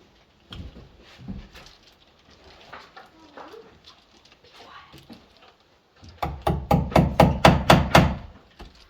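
A hammer drives a nail into a wooden cabin window frame to tack it, about nine sharp, loud, close blows in quick even succession after a stretch of quieter handling noises.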